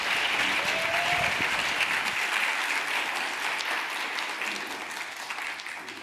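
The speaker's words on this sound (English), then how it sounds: "let's give a round of applause to the panel" Audience applause for a panel at a climate innovations leadership event, a full, steady burst of clapping from a seated crowd that slowly thins and fades over six seconds, with a brief voice early on.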